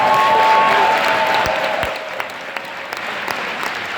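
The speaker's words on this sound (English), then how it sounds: "Give them a big round of applause" Loud, dense applause from a large crowd honouring police recruits at a city event, sustained clapping that starts full and eases slightly, with a few sharper individual claps standing out toward the end.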